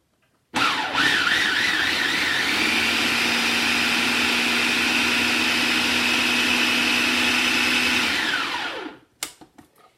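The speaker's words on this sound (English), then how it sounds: "And I blitz those so that they're just a little bit thicker than, say, a refried bean consistency" A blender blitzes cooked beans for veggie burgers, starting abruptly into a loud, steady whirring roar with a rising whine that holds for about eight seconds before spinning down, followed by a few clattering knocks.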